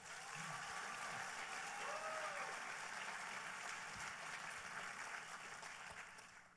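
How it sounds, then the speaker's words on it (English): Sustained applause from a large pageant audience at a grand finale, steady and full for several seconds with a faint tonal murmur underneath before easing slightly at the end. "So how about another big round of applause for Janelle Arthur?"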